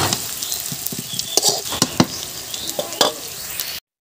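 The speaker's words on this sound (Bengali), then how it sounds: "তো চলো এখন সমস্ত জিনিসগুলো আমি একটু ভালো করে ভেজে নিই" Potatoes, paneer and vegetables fry in hot oil, giving a steady bright sizzle with occasional stirring scrapes and crackles close by, with no talking.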